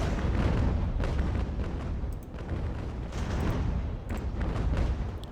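Repeated booming cannon fire from sailing warships in Ultimate Admiral: Age of Sail, several rumbling shots in quick succession over a continuous low battle roar.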